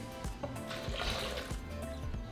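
Warm water pours into a blender holding black beans and oil, a soft steady liquid rush heard faintly and close.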